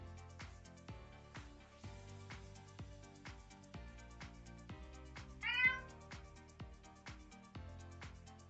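A single cat meow cuts through near the middle, short and clear, over rhythmic background music that plays throughout.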